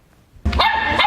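A puppy at a puppy yoga class lets out a sudden sharp bark after a brief quiet moment, loud and close.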